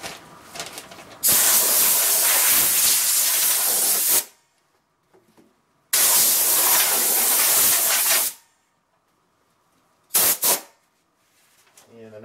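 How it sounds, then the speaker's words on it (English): Compressed air blasts dust off CaseLabs computer case parts being prepared for custom paint, in two long loud hissing bursts of about three seconds each and a short final puff, with quiet pauses between. "we'll just blow that off real quick with some air"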